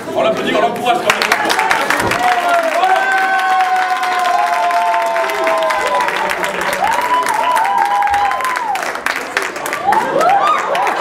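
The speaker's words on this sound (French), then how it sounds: "on l'applaudit, on l'encourage quand même" Studio audience on a TV game show applauding a contestant: steady, dense clapping with some cheering, carried on through the whole stretch beneath sustained tonal music.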